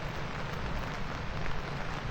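Rain pouring steadily at Pantai Surumanis beach in Kebumen, Central Java, after a light drizzle turned heavy: a dense, even hiss of falling drops with no pauses or voices.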